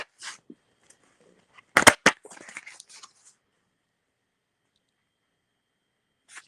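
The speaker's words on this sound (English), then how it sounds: "Let me shuffle." Riffled Atlantean oracle cards flutter in a quick burst near the middle, followed by a few light flicks and taps, then near silence.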